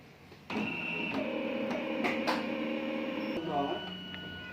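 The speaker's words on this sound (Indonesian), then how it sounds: "setelah masuk langsung kita cetak, klik print" An inkjet-style printer prints an image for transferring onto wood, giving a steady mechanical whir with tonal motor lines and repeated carriage sweeps and clicks, close and continuous for several seconds.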